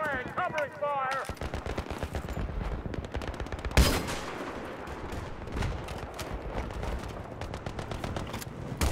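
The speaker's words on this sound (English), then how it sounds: "Fire the gun!" Gunfire in the Battlefield 3 single-player campaign: dense, sustained bursts of rapid shots with heavy impacts, one louder blast partway through, continuing throughout with voices shouting over the battle.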